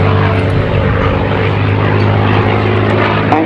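A P-51D Mustang propeller fighter flies at a 2016 naval air station air show, its piston engine droning loud and steady with a constant low growl throughout.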